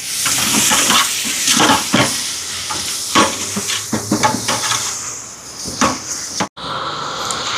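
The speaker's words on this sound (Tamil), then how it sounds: "தயிர் சேர்ப்போம். இப்போ கலந்து விடுவோம்." Curd is stirred into chicken biryani in a large pot for a charity meal, with loud, close scraping strokes in an irregular rhythm over a steady sizzle and steam hiss.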